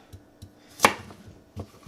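A cheap Mosfiata chef knife slices through food in a few sharp, separate chops, each a crisp knock of the blade hitting the cutting board, close and clear against a quiet background.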